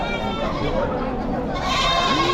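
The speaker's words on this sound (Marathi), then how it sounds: "शेळ्या बघा मित्रांनो एकदम क्वालिटीमध्ये शेळ्या आहेत" Goats bleating at a large goat and sheep market in Chakan, Maharashtra, a couple of wavering bleats rising over busy crowd chatter and people talking nearby.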